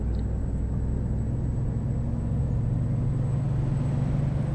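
A truck engine in the American Truck Simulator video game, hauling cars, gives a loud, steady low rumble that drones on evenly throughout, with no voices over it.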